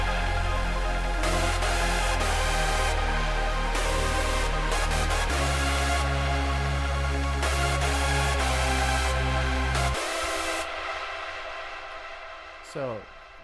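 Layered hardstyle synth lead built from saw-wave layers and spacey panned arps, playing as a dense, sustained buzzing lead over a heavy bass line. It drops out after about ten seconds, leaving a quieter fading tail with a brief sweeping tone.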